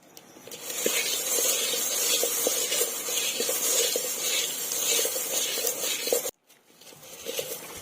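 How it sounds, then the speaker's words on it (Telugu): Puffed rice snack mixture with peanuts stirred and tossed in a bowl, a steady dry rustling hiss with light crunchy scrapes, close and continuous before a brief pause and resuming. "వేరుశనగ పప్పు కొంచెం వేసుకుంటున్నాను. ఇప్పుడు మళ్ళీ మిక్స్ చేసుకుంటున్నాను."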